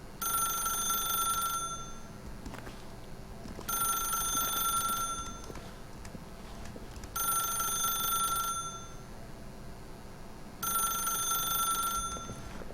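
Telephone ringing in the video game The Stanley Parable: four loud, evenly spaced bursts of electronic bell ringing, each lasting about a second and a half, separated by pauses over a low steady room hum.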